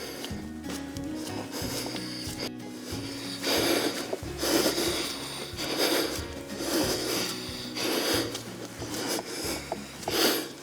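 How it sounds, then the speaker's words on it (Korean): Rough, heavy breathing from an elderly potter over 80 making an onggi earthenware jar repeats in uneven bursts over a steady background rumble, close by and moderately loud. "이제 항아리 하나를 만드는데도 금세 숨소리가 거칠어집니다"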